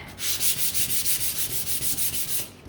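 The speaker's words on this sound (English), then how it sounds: "Take your sandpaper, give him the sand." Sandpaper rubs over a painted wooden pumpkin in quick, steady back-and-forth strokes, close and fairly loud, about a dozen rasping passes with no talk.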